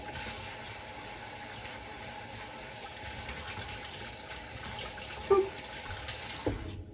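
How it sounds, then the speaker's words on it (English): A kitchen tap runs steadily into a sink while hands are washed beneath it, a soft, even hiss of water close by, with a couple of faint knocks near the end and no talking. "Just gonna wash my hands."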